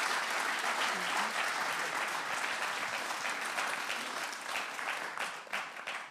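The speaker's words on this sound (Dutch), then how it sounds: "Hartelijk applaus voor Roel van Duin." Warm, sustained applause from an evening audience at a book presentation, a steady wash of many hands for about six seconds that slowly thins toward the end.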